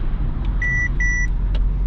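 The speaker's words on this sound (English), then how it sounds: "That was blind spot monitor." Inside a 2022 Mercedes C-Class C200 with a 1.5-liter mild-hybrid engine, the blind spot monitor sounds two short, clear electronic beeps in quick succession over steady road and engine rumble.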